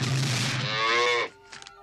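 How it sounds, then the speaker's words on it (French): A cartoon cow gives one loud, drawn-out moo that stops abruptly, followed by faint small sounds, with no talk over it. "Une vache!"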